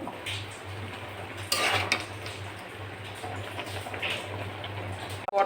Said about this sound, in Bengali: দিয়ে একটু নেড়ে চেড়ে নেব।